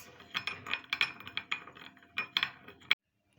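A metal spoon clinks rapidly against a mug while stirring sugar into milk for an Oreo mug cake, a quick irregular series of bright taps that stops abruptly, fairly quiet, with no talking.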